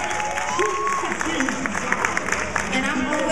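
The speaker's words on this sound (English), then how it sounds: "So please, give him a round of applause." Applause from the audience at a graduation ceremony, a moderate crowd clapping steadily with some scattered cheers, while a speaker's voice carries over the top of it.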